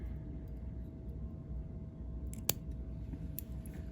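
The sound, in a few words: scissors cutting thread while tying a fly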